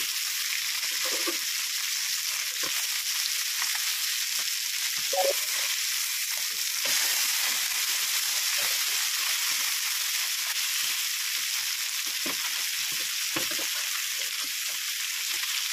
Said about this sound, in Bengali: মাছগুলা ভালোভাবে সুন্দর করে ভাজা বসাই দিলাম